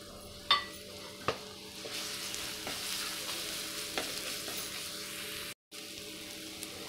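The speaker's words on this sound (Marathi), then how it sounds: "आलं, लसूण, हिरवी मिरचीचं वाटण केलं होतं ते आपण पहिले टाकूयात।" A ginger, garlic and green chili paste frying in oil in a pan for corn curry, giving a soft, continuous sizzle with a few clinks and scrapes of a stirring spoon and a brief gap near the end.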